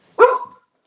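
A single loud, close dog bark rings out sharply and trails off quickly, followed by near silence, with no talking.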